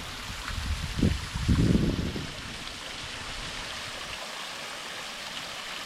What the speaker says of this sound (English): we found this little waterfall and cave that I was hoping to find